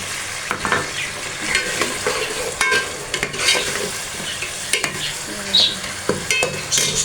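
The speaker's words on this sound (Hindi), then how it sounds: "टमाटर डाल दिए। अब हम इसको थोड़ा फ्राई करके" Chopped tomatoes fry in a pan for a dhaba-style aloo phaliyan sabzi, with a steady sizzle and repeated scraping stirs from a spoon, close up and without talk.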